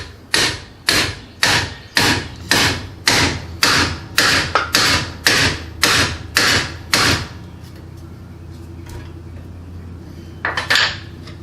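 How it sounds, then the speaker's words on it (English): Mallet blows on a Lexus ES300 front suspension joint during a rebuild: about fourteen sharp metallic strikes in a steady rhythm, loud and close, then a pause with a low hum and a couple of faint knocks. "So I'm just going to use one of these this time. A mallet."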